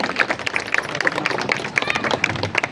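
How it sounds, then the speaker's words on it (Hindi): A crowd gives enthusiastic, steady clapping to greet a city mayor arriving at a local community building inauguration in Dehradun, dense and continuous applause close by for a few seconds. "जोरदार तालियों के साथ मेयर साहब का स्वागत करेंगे"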